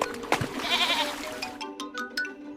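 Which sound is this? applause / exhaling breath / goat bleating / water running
goat bleating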